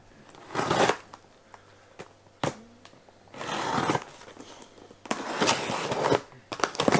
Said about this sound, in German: Ganz schnell noch ein Paket auspacken